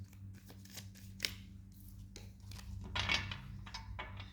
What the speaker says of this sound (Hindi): मैं शफल करना चाहूँगी कार्ड्स को, और मैं थोड़ा अच्छे से शफल करूँगी